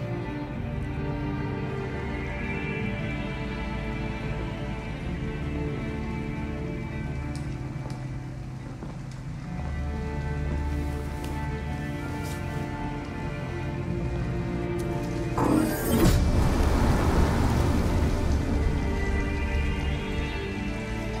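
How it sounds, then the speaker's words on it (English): Pouring rain in the video game Detroit: Become Human, a continuous full hiss of rainfall, steady throughout, with a brief louder surge near the end over a low droning background. "it's pouring rain"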